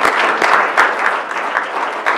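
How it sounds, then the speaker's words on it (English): Steady, dense applause from an audience at a Rochester Board of Education business meeting, loud and continuous with a few sharper claps standing out, no talk over it. "you can keep applauding"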